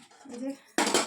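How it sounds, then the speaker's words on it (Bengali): A kadai wok set down on a home kitchen stove gives a sudden close metallic clatter and rattle after a short stretch of voice. "কড়াই বসিয়ে দিলাম"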